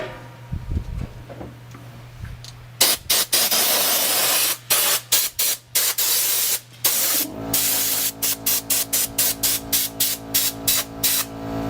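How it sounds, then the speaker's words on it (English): An air compressor nozzle blasts debris out of clipper ball screens in loud hissing bursts, first a few long ones and then a quick series of short, rhythmic puffs, close up with no talk. "I'm also going to use the compressor on here just to get any debris that's stuck in here out"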